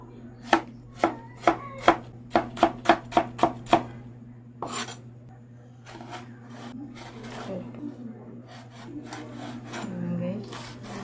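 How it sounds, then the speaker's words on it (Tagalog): A knife chops vegetables on a wooden board in crisp, evenly spaced cuts that quicken into a rapid run, then give way to scraping, handling noises and a brief voice over a low steady hum. "naman po natin hiwain po itong ating mga ricados"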